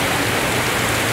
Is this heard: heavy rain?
yes